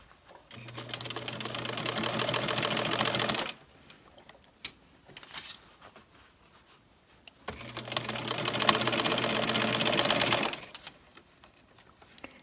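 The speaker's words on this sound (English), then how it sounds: "I'm going to sew this a 1/2 inch and continue going all the way around" A sewing machine stitching a hat lining, two sustained runs of rapid mechanical stitching separated by a pause with faint handling clicks, close and moderately loud.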